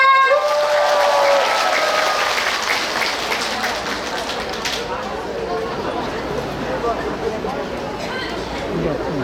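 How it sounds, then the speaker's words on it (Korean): Audience at a Buddha's Birthday lantern festival stage performance in Goyang claps and cheers in a loud, sustained burst that slowly thins, with crowd chatter mixed in. "여러분 지금보다 더 큰 박수 부탁드립니다."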